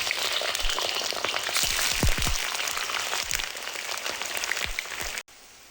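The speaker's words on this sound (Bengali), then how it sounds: "তেল গরম হয়ে গিয়েছে, তাই এখন এর মধ্যে আমি বেরেস্তা তৈরি করে নেব" Sliced onions frying in hot white oil for beresta give a close, steady crackling sizzle dotted with sharp pops, continuing for about five seconds before cutting off abruptly.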